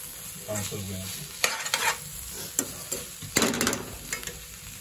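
Chicken pieces frying in a pan for a granny-style Telugu chicken fry, a steady close sizzle broken by several sharp scraping stirs and clanks of a spoon against the pan, with no talking.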